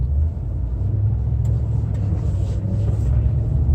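A 2003 Land Rover Discovery 2 drives in low range with the centre differential lock engaged, giving a steady, loud low engine and drivetrain rumble throughout with no clear gear-change breaks.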